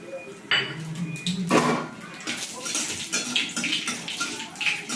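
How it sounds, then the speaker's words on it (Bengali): Black cumin and dry chillies dropped into hot oil for a vegetarian taro dish, a quick sizzling crackle with bursts of spluttering and light clinks of a pan. "এবার ওতে একটু ফোড়ন দিয়ে দেবো, কালো জিরে আর শুকনো লঙ্কা।"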